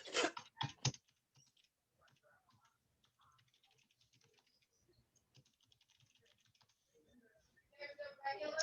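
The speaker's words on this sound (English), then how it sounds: "then I can type in the property address" Steady run of keystrokes on a computer keyboard entering a property address, soft and close, with brief bursts of louder sound at the start and end.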